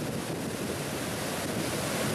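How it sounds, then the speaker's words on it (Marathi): Water released from the Nandur Madhmeshwar dam pours into the Godavari river, a steady broadband rushing roar with wind buffeting, constant and unbroken. "अखेर नांदूर मधमेश्वर धरणातून 1640 क्युसेक पाण्याचा विसर्ग गोदावरी नदीमध्ये सुरू करण्यात आला आहे"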